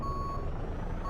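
A truck's reversing alarm sounds a steady, unbroken high tone, loud and close, over a heavy diesel engine rumble.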